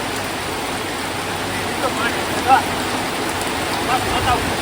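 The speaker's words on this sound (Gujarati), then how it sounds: "કેટલો વરસાદ આવ્યામાં કેમ કામે જવું?" Heavy monsoon rain pours steadily as a broad, even hiss with a few faint splashes, with no one speaking over it.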